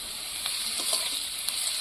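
Potatoes frying in a pan, a continuous bright sizzle with faint stirring scrapes, close and steady throughout.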